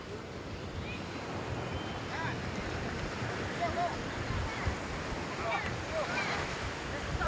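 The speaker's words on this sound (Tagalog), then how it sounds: "lalaki po ng alon ngayon" Big ocean waves rolling in at sea, a dense, steady roar of surf and wind noise filling the air at moderate loudness, with a faint voice now and then.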